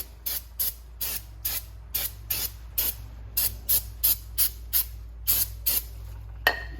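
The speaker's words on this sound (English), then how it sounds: "Spray this out with brake clean." Rapid short bursts of aerosol brake cleaner hiss in a quick, uneven series onto the front brake rotor of a 2014 Ford Explorer Sport, close and fairly loud, with no talking.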